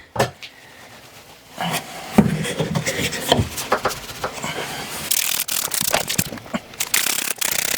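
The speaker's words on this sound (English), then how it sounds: "Time to do some more shredding." A shredder chews through dry material for a worm bin, making ratcheting, grinding mechanical noise that grows louder and denser partway through.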